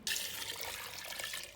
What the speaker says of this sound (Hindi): और भी अभी मैंने इसमें पानी डालना है।